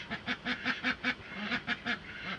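Ducks near a cabin quack in a close, loud, regular series of about a dozen calls, with a short pause midway and no talking.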